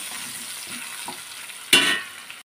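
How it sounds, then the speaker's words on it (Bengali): Potato pieces frying with salt in a pan for a koi fish curry, a steady soft sizzle with faint stirring scrapes, then a louder burst of hissing near the end before it cuts off. "আলুটা লবণ দিয়ে ভেজে নেব।"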